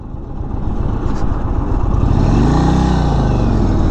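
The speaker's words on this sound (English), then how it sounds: "finding out right away how peppy this bike can be in sport mode" A 2022 Indian Chief Bobber Dark Horse motorcycle ridden in sport mode rumbles loudly with strong wind noise, its engine pitch sweeping up then back down as it accelerates.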